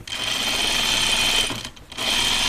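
Sewing machine running steadily as it stitches down the seams of a dress, a continuous close mechanical whir that drops out briefly near the end before resuming.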